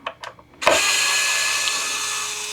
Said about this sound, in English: one of my favorite tools I have is a cordless drill, a cordless screwdriver